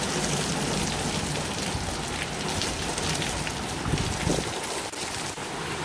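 Torrential rain from a severe Minnesota thunderstorm drums hard and close on a surface, a loud, unbroken roar of dense splashing that stays even throughout, with no voices.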